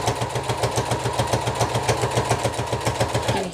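A sewing machine stitches through thick double layers of fabric and batting for a potato bag, giving a fast, steady mechanical chugging pulse, close and evenly rhythmic, without pauses.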